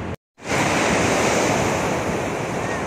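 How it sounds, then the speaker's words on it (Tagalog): Sea waves breaking at the shore at night, a continuous loud roaring surf with wind buffeting the microphone, starting after a brief silent gap. "Nandito naman kami sa may sa dagat."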